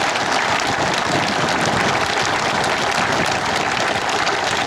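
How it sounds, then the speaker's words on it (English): Audience applause at a benefit tractor pull in New Vienna, Iowa, a dense, steady roar of many hands clapping that fills the whole stretch at full level without a pause. "Give them all a great big round of applause"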